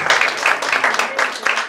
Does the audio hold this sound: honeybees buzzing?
no